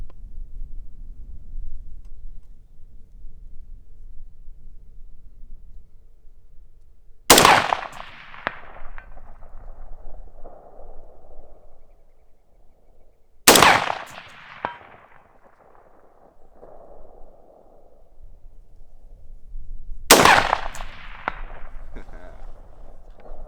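Three loud, sharp rifle shots from an Aero Precision 20-inch AR upper at an outdoor range, spaced several seconds apart, each cracking sharply and trailing off in a short echo, with wind and low rumble between them.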